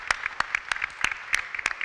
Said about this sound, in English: Let's give another round of applause for this group for their time and for their willingness to